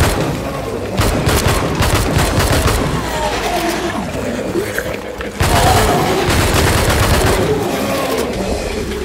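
Dense gunfire in a first-person shooter video game on a creeper map, rapid bursts of shots and booms running continuously throughout, loud and busy with a brief dip midway.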